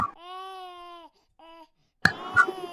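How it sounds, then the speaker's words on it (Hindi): A baby's thin, wailing cry in two short bursts, separated by a pause, followed by a sharp knock and faint rustling. "जंगल में वो बच्चा भूख के मारे तेजी से रोने लगा"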